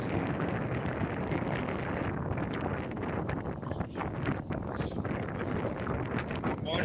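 Strong outdoor wind buffeting the microphone at a theme park garden festival, a constant dense rumble and rush that masks everything else for the whole stretch.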